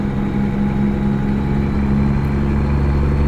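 A truck engine in American Truck Simulator runs as a steady, loud low hum and drone, holding an even pitch throughout with no talking.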